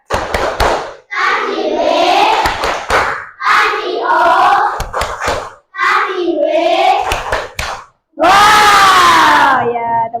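Primary school pupils in an Indonesian Islamic religious education lesson clap and chant in rhythmic bursts for the 'tepuk wow' clap chant, with loud group voices shouting between the claps and a final drawn-out group cry.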